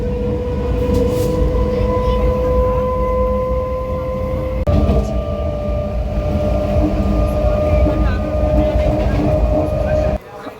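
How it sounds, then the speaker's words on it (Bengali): A passenger train at Birnagar station rumbles loudly and steadily with a sustained mechanical whine, close by and continuous, then cuts off abruptly near the end. "এবার ট্রেনের জন্য অপেক্ষা করছি তো ট্রেন আসবে"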